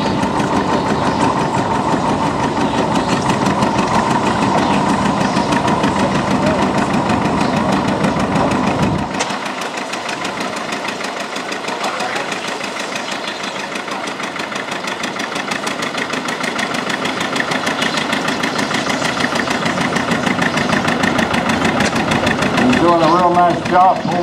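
A 1952 John Deere Model R diesel tractor engine pulls a sled at a tractor pull in Apache Junction, Arizona. The steady, loud engine drone continues throughout, shifting pitch partway through, with an announcer talking over it.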